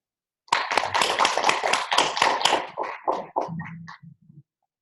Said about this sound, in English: Please help me welcome Mr. Ayala with a round of applause.